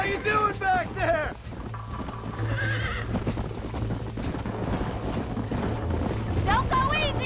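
Horse galloping in Red Dead Redemption, rapid rhythmic hoof clip-clop running steadily through the whole stretch, with whinnies and neighs near the start and end and a voice talking over the ride.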